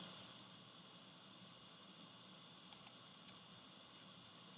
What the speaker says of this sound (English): I'm using the arrow keys on the keyboard to move these up.